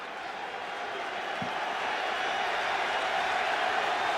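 A stadium crowd at Ralph Wilson Stadium in Buffalo cheers and roars as they rise during a 2009 NFL game between the Buffalo Bills and New Orleans Saints. It is a steady, distant wall of noise that swells slightly toward the end.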